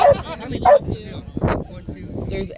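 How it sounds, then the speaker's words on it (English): Several dogs, a pack of eight that includes three puppies, bark and yip in short bursts while people talk over them close by. "there's eight dogs all together"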